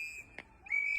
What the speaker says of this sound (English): Bystanders are blowing whistles and yelling at federal agents.